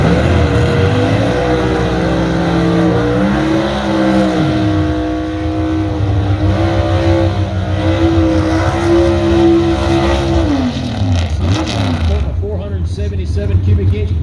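A 477 cubic inch big block Chevy gasser drag car from the Par Race Engine stable roars at a drag strip, its loud engine revving up and down in long sweeps while an announcer talks over it.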